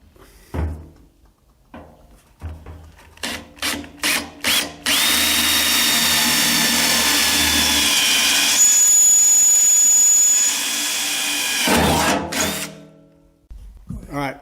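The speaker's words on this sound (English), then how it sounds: "So all we need to do now is get those drilled out." A power drill bores holes in an EFI fuel tank during a conversion. A few short clanks and bursts come first, then a loud, sustained drilling whine runs for several seconds before stopping abruptly.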